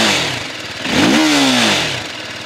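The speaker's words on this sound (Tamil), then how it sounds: "இந்த பைக்கோட எக்ஸாஸ்ட் நோட் பார்ப்போம்." A TVS Apache RTR 310 motorcycle revs once, its exhaust note rising sharply, holding high for under a second, then falling back toward idle. The sound is close and fairly loud, with no talk.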